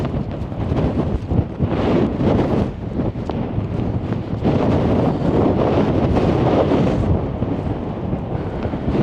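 Strong wind at the Yorkshire seaside town of Filey buffets the microphone in a continuous loud roar with gusty surges throughout, and no voices are heard.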